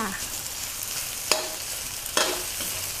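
Rice and carrot stir-fried in a pan for a vegetarian grain fried rice, with a steady broadband sizzle and two sharp scraping clacks of a spatula against the pan, close and clear with no talking.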